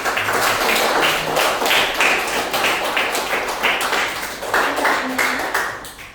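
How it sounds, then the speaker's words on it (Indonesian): Children in a Hindu religion class clap their hands together in a sustained burst of rapid, dense clapping, with a brief lull near the end before it picks up again. "Sekarang kita tepuk tangan dulu untuk kita semua."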